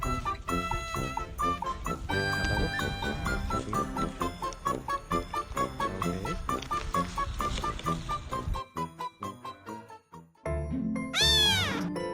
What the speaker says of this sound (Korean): 고양이 같아